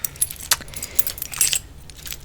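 A bunch of house keys jangles in several bright, close metallic bursts, clinking irregularly and then settling, with no talking.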